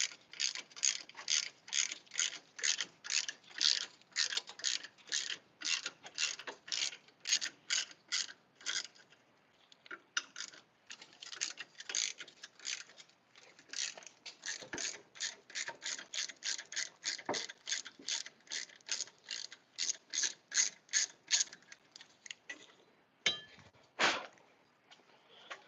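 Ratchet wrench clicking while removing bolts and nuts in a shop, rapid rhythmic bursts of metallic ratcheting repeated over many seconds, fairly close and moderate in level with brief pauses between runs.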